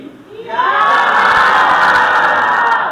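Schoolchildren at a state special-needs school chant an anti-corruption slogan together, a loud sustained group shout that rises after a brief quiet start and holds steady to the end.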